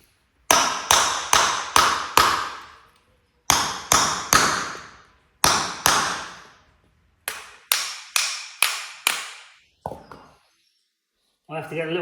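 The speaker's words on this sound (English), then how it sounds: "pull it in the vise, get a chisel and give it a whack, and that comes off" Hammer blows on a chisel freeing a stuck part held in a vise during a Ford Sierra Sapphire 2.0 Zetec engine and turbo conversion: sharp metallic strikes in quick bursts of four or five, close and loud, with a brief voice at the end.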